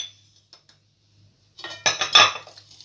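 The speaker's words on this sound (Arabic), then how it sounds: "وغادي نخلط، وفي نفس الوقت بحال إلا كنطرب البيض" A whisk or spoon clinks and scrapes against a bowl while eggs, sugar and orange zest are mixed, starting after a near-silent pause and rising into a quick burst of clattering strokes.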